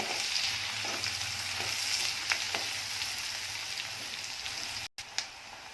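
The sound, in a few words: onion frying in a pan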